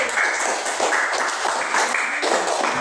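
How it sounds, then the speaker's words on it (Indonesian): Applause from a classroom for group 3 after a performance of the sholawat Badaru Alaina, a short, even patter of many hands clapping nearby. "Tepuk tangan untuk kelompok 3 lagi"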